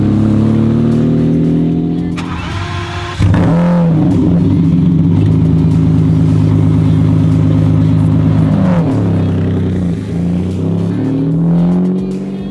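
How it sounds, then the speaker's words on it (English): A Lamborghini Diablo V12 revs hard and loud, with a sharp jump in intensity partway through and a sustained roaring, rising and falling engine note, close up with no talking. "How insane does that Diablo sound?"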